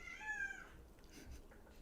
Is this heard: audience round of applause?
no